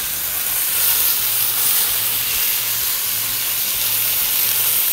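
A flipped beef chuck eye steak sizzles loudly and steadily in a hot pan, with a dense, even hiss and no voices.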